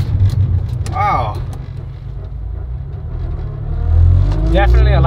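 A 2019 Honda Accord 2.0T with a six-speed manual pulls hard from inside the cabin, a deep steady engine rumble swelling louder toward the end, with excited voices speaking over it.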